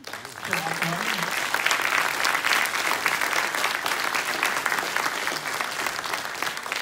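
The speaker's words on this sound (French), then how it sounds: "je voudrais qu'on applaudisse une seconde fois notre ami" An audience at a conference applauds, a dense and sustained burst of clapping that swells and holds, with a voice faintly audible beneath it.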